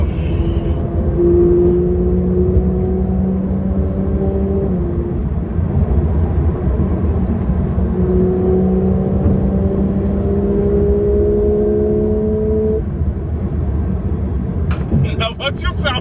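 A Porsche 992 GT3 engine pulls hard while driving: a loud, steady rising tone climbs, breaks briefly at an upshift, then climbs again, ending with a burst of clatter.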